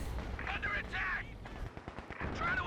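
Machine gun fire in the real-time strategy game Company of Heroes 2 crackles in rapid bursts of battlefield shots, with other combat noise in the mix.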